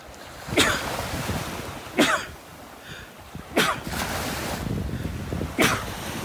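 Four loud, sharp sneezes from a man walking on a Florida beach in North Naples, spaced about a second or two apart, over a steady background of surf and wind.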